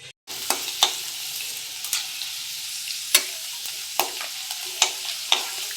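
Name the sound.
potato chips frying in oil, being stirred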